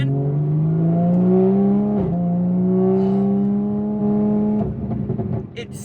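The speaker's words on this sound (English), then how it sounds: "So this car, this Supra, with the new exhaust," Toyota Supra fitted with a new aftermarket exhaust, cruising at highway speed, heard from inside the cabin: a steady, smooth engine hum that rises slightly and shifts pitch once, with a faint voice near the end.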